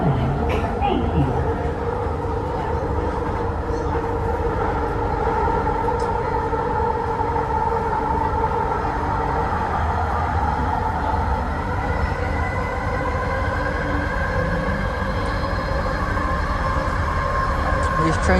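A train that entered service in 2017 rumbles steadily along the rail line, a loud continuous interior drone with faint wheel whine. Voices can be heard over it.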